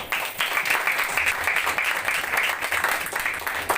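A church congregation claps in sustained, dense applause, a loud, continuous patter of many hands that holds steady throughout.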